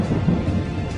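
Torrential pre-monsoon rain in Surat floods the roads, heard as a brief, loud, continuous rush of dense rainfall with no speech.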